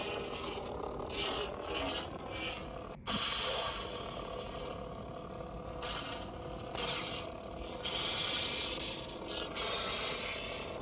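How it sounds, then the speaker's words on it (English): A lightsaber sound font plays a dense, crackling buzz for a saber striking armor, gauntlet or helmet, with a sharp click early on and repeated bright surges, fairly quiet and without talk. "That sound is where, like, when the lightsaber hits a piece of his armor or his gauntlet or helmet"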